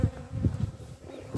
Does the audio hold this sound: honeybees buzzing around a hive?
yes